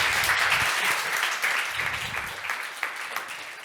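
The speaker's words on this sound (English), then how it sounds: "An applause, ladies and gentlemen." Conference audience applauding after a panel discussion at a water management event, a steady wash of many hands clapping at moderate distance, fairly even and slowly tapering.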